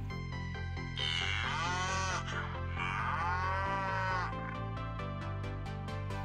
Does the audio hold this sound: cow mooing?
yes